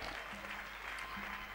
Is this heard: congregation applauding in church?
yes